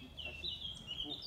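Zoo birds at a wildlife reserve give thin, high squeaking calls in short repeated bursts, faint against low outdoor background noise.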